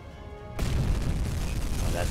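A video-game torpedo strikes the front of a ship and explodes, a sudden loud boom that stays as a dense rumbling roar after a quieter opening.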